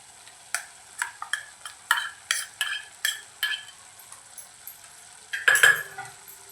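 Coconut paste is stirred into a sprouted field-bean curry in a pan, a rhythmic series of close, sharp scraping strokes of a spoon against the vessel. It ends in a louder clatter.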